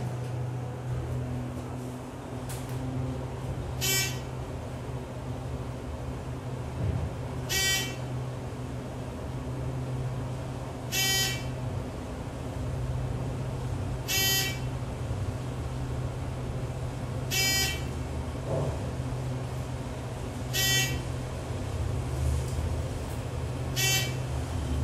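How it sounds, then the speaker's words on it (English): A Thyssenkrupp Synergy elevator buzzer gives seven short, sharp beeps at regular intervals of about three seconds. They sound over a steady low machinery hum and hiss inside the car, with no voices. "newer Thyssenkrupp elevators, the buzz or beep is not as long"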